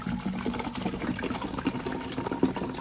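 Water pours steadily from a tap into a bottle as it is filled, a continuous close trickling and splashing with a faint rise in pitch over a few seconds, no voices.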